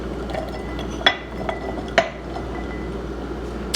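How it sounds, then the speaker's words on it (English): Cooked black beans being added to glass jars, with a few sharp clinks of a utensil against glass over soft background rustle, heard close. "now for our taco soup, we're going to be adding in a 1/2 cup of cooked black beans"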